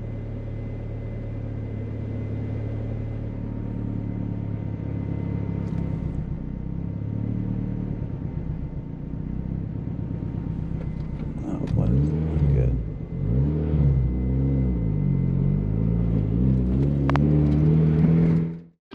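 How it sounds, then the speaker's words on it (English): A turbo Miata engine with a BP4W head idles close by with a low, uneven rumble. Partway through it starts to stumble and surge, and a voice talks faintly underneath. "you're probably wondering why the engine was running rough there at the end"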